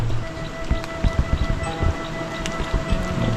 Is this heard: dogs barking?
no